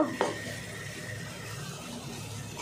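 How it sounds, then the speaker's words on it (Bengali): Neem leaves and eggplant frying in a pan, a soft low sizzle with a sharp utensil clink at the start and another near the end, faint and close. "নিম বেগুন ভাজা হয়ে গেছে, মানে নিম পাতা ভাজছে মা"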